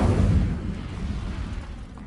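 An Incendio fire spell goes off in Hogwarts Legacy, a loud low whooshing burst that rumbles and then slowly fades like a roaring flame.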